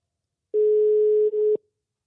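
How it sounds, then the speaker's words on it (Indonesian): Single steady electronic telephone tone lasting about a second, with a brief dip near its end before cutting off cleanly, loud and close with silence around it. "ya udah kita langsung telepon Bu Dewi aja ya Pak ya"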